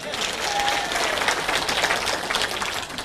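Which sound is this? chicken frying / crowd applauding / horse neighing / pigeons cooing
crowd applauding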